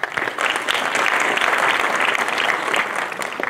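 A conference audience breaks into full, even applause, close and steady for a few seconds with no voices over it.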